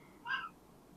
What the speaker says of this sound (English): Do you hear his meows?